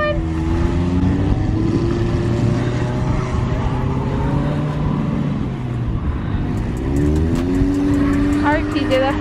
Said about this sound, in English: He's just trying to burn my tires now.